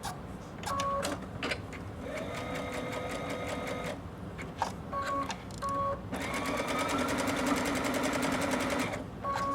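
A sewing machine runs a narrow, short-length satin stitch around an applique circle, buzzing steadily in several close runs with brief stops for pivoting; no talking.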